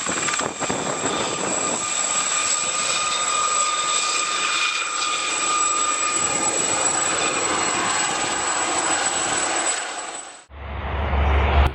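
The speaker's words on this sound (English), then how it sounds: "helicopter hovered low above a field while people recorded the dramatic close-range view" A helicopter hovers low over a field, its engine and rotor giving a steady, loud, close drone with a whining tone for about ten seconds before an abrupt cut.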